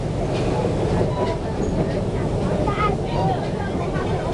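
The Serengeti Express at Busch Gardens Tampa, pulled by a three-quarter-scale replica of a European steam engine, rumbles steadily along the track, heard from aboard the train with a voice narrating over the constant rolling noise.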